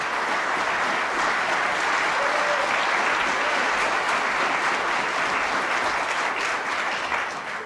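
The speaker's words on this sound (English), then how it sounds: "The crowd trying to urge Ronnie on at the start of this frame" A crowd applauds steadily in the arena at the World Snooker Championship, a sustained wash of clapping at the start of a frame, fairly loud and continuous throughout.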